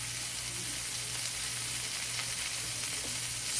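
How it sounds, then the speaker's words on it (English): Pork tenderloin sizzling in a hot pan, a steady, dense crackle and hiss that carries on evenly with no break and no talking. "we're going to cook it for 2 minutes on this side and then flip it over"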